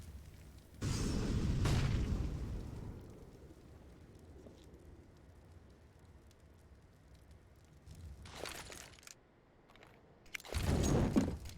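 Molotovs and smoke grenades are thrown in a Counter-Strike match on Vertigo, giving loud whooshing bursts, one near the start and another pair near the end, with a low hissing rumble between them.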